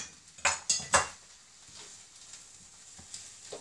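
Red onion chutney with garlic is stirred in a pan: three quick, sharp clinks of a spoon against the pan, then softer scraping that fades into quiet.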